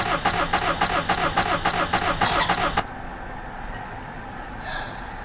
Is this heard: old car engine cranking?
yes